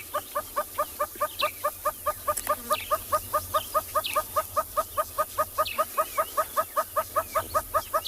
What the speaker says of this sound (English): And that is the sound of the red-billed hornbill just above us.